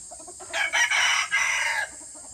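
A gamecock crows loudly and close by in a long, drawn-out call, with soft clucking from chickens before and after, in a rural yard.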